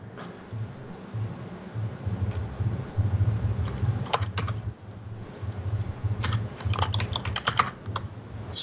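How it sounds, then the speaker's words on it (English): Typing on a computer keyboard, a steady run of close, rapid key clicks with a busier flurry of sharper keystrokes toward the end, no talking. "having a hard time typing in the new year here."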